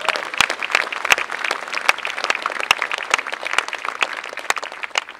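An audience at a 1916 Centenary Commemoration event in Westport applauds warmly, dense steady clapping from a fairly large crowd lasting several seconds.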